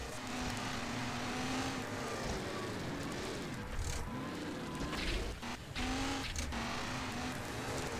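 An engine drones steadily as a race car speeds along narrow roads in the 2005 game Cross Racing Championship, its pitch sliding up and down with gear changes and a couple of brief dips midway.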